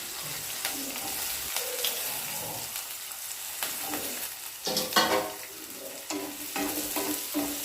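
Green chillies fry in hot oil for a potato and drumstick curry, giving a steady crackling sizzle with stirring scrapes and a few louder pops midway, close and continuous throughout.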